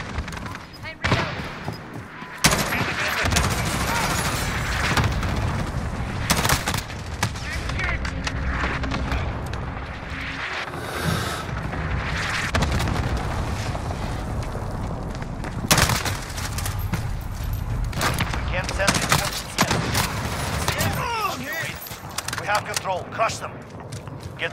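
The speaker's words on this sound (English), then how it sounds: "Allied cluster strike incoming." Call of Duty Modern Warfare multiplayer on Shoot House, with a cluster strike of repeated explosions and bursts of gunfire, loud sharp cracks and booms scattered throughout under frequent game voice callouts.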